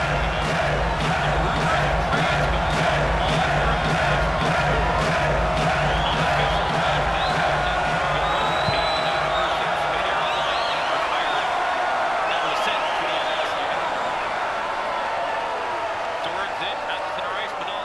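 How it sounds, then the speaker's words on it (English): Arena crowd cheering for the Sarholm Crowns at a center-ice face-off in an ice hockey game, a steady loud roar of voices filling the space while an announcer talks over it. "So we have a face-off at center ice, and the crowd is definitely cheering for"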